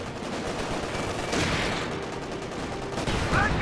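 Dense, continuous small-arms fire and bursts from a World War II strategy game battle, a steady loud barrage with heavier shots near the end, no voices.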